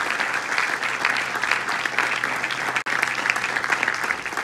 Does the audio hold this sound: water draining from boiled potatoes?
no